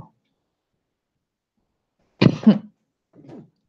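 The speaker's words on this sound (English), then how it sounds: "Sorry for the cough" A single sharp cough bursts out of silence, followed by a fainter, shorter throaty sound a moment later.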